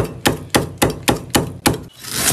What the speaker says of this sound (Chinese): 切点葱姜，葱切成菱形片